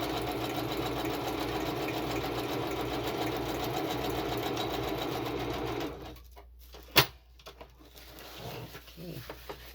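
A sewing machine stitches through sewing-pattern paper in a journal, a fast steady mechanical whir that runs for about six seconds and then stops, followed by a sharp click and quiet handling.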